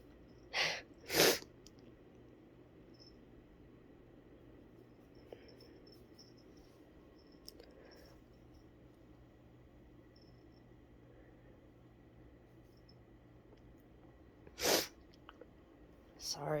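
Two quick sneezes at the start and a third much later break an otherwise quiet room, faint insect chirps and a low hum beneath.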